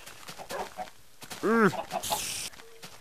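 Blocky chickens in the Minecraft video game cluck in a few short, bright bursts, one louder warbling call standing out in the middle, with a brief hiss of other game noise near the end.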